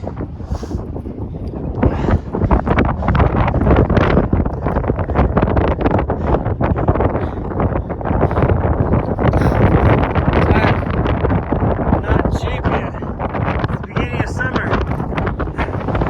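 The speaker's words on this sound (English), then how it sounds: "Pretty windy." Strong wind on a mountain summit roars and buffets the microphone continuously, a loud, rushing gusting noise that never lets up.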